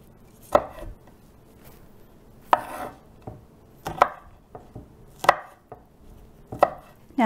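A knife cuts medlars into quarters on a board, giving a handful of sharp knocks against the wood spaced a second or two apart, with small rustles and taps between them, close and quiet otherwise.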